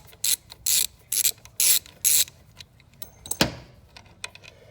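A 1/4 inch drive ratchet with an extension loosens a transmission plug on a Dodge Ram Cummins 48RE. Five quick bursts of close, crisp clicking come in a row, followed by a metallic clunk and a few scattered light taps.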